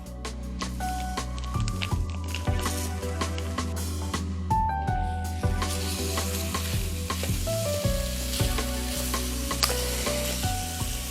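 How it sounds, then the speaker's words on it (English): Coarse-ground 85/15 Angus beef browns in a pan with garlic, giving a steady, close sizzle and frying crackle broken by scraping stirs. No talk is heard over it. "to this, we'll add our meat. I am using an Angus ground beef."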